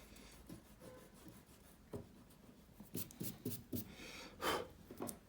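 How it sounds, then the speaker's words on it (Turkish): An eraser rubs out pencil reference lines on paper, giving soft, quiet scrubbing bursts in short irregular strokes, close and faint with no talking. "Artık fazlalık referans çizgilerin hepsini silebiliriz."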